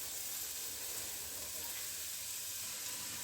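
Vegetables such as leeks and grated carrots sizzle in butter in a pan for a Chinese-style soup, giving a quiet, steady frying hiss throughout.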